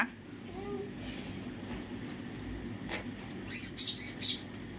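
A pet bird gives a few short, bright chirps, bunched near the end, over a faint, low background hum in a quiet room.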